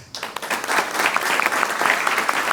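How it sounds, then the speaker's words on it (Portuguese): An audience at a Brazilian medal and award ceremony claps for an honoree, a dense, even burst of applause that rises quickly and holds steady for about two and a half seconds, with no voices over it. "Vamos receber com aplausos."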